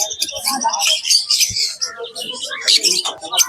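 Yellow-sided conures and other caged birds at the Naihati bird market give high, shrill chirps and squawks in a busy jumble, close and fairly loud, with market chatter and voices underneath.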